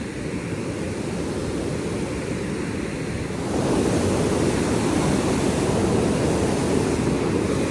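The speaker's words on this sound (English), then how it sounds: "I thoroughly enjoy this area with the waterfall and the rushing water" Rushing water near a waterfall in an Appalachian stream, a steady, loud broadband roar with wind buffeting the microphone, growing slightly louder partway through, with no voices.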